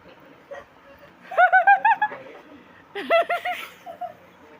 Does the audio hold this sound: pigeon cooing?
yes